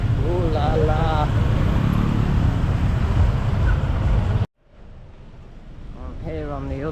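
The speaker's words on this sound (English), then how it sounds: "Traffic, ooh la la." Street traffic rolling along Jalan Legian in Kuta, Bali, a steady broadband roar of passing vehicles that cuts off abruptly midway and returns more quietly, with voices talking over it throughout.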